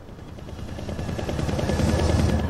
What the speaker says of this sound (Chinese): 直升机失事了，一个铁盒子掉下来